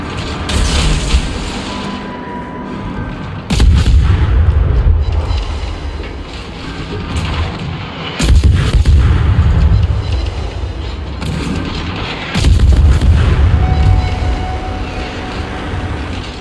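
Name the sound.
destroyer IGN G-101 guns firing at cruiser, from a video game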